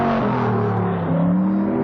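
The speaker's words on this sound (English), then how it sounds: "You hear that strong swell of 6 litres of V8." A 6-litre V8 touring race car at a 1973 Warwick Farm race meeting accelerates hard in the wet. Its loud, close engine note swells and climbs in pitch, with no talk over it.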